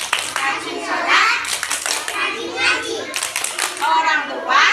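Young children in an Islamic kindergarten class clap rhythmically along with a chanted clapping game, loud bursts of hand claps mixed with their chanting voices.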